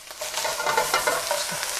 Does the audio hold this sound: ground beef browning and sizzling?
yes